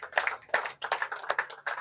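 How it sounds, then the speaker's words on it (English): A small audience at the Cooper Cup championship finals gives scattered, uneven hand claps for the winning team, faint and thin rather than a full ovation. "One more time, round of applause for Team Hill"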